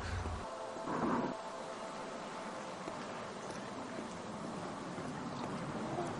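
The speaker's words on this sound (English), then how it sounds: "The wind's blowing. This is cool." Wind blows steadily in a video game, a constant soft rushing with a slight swell near the start and no talk over it.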